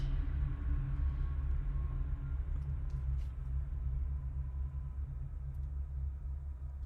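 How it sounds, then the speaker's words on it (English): A train passes in the distance, heard as a steady low rumble that holds for several seconds with no talk over it. "I can hear the train going past."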